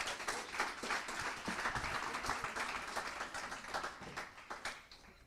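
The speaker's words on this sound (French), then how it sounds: "je crois qu'on peut applaudir les jeunes parce que c'est super ce culte." Members of a church congregation clap for the youth group after a youth service: a sustained round of applause, moderately distant, with many overlapping hand claps that slowly thin toward the end.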